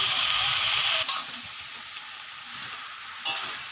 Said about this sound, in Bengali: ভালোভাবে কষিয়ে নিচ্ছি